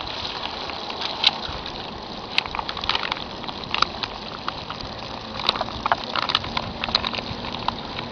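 Water drains from a large hurricane tarp out through a black tube in a steady gushing trickle, with scattered splashes and drips close by.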